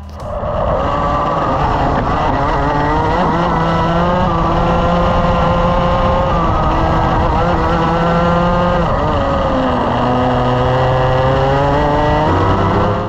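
A racing kart with a poor setup corners roughly on a track. Its engine drones loudly and continuously, rising and falling in pitch as it works through the corners, with no voices.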